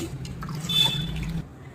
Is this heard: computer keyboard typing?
no